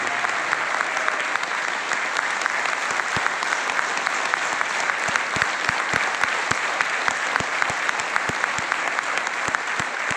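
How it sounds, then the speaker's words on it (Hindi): Loud, sustained applause from a seated audience welcoming a guest at a gathering in Delhi, dense clapping continuing at full strength throughout without talk. "एक बार जोरदार स्वागत होना चाहिए, जोरदार तालियों के साथ"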